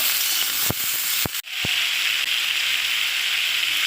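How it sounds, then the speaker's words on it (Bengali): Potato and ridge gourd fry in oil with turmeric and salt, giving a steady loud sizzle with a few sharp clicks and pops near the start. "এটা ভালো করে একটু ভেজে নেব"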